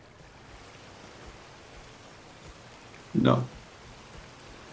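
Steady rain falling in the Skyrim game world, a soft continuous hiss throughout with one brief louder burst partway through.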